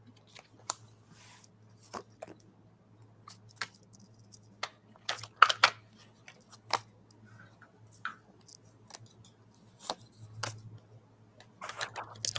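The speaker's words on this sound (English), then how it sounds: "I'm always amazed at what drops out when I shuffle the cards here." Cards are shuffled in sparse bursts of crisp ticks and riffles, close and fairly faint, with quiet pauses between them over a steady low hum.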